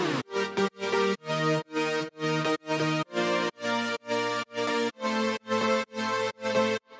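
Filtered sawtooth synth chords from an Ableton Live production play as a steady series of short, evenly spaced stabs, each cut off cleanly in a rhythmic, gated pattern, loud and alone with no voice.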